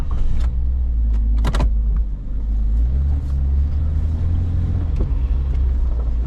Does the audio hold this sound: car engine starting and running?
yes